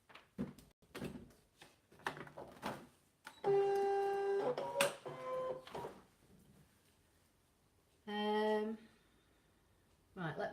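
Cutting machine scanning a sheet of black card, giving a couple of whirring mechanical passes between clicks and clunks of handling, with quiet talk at times.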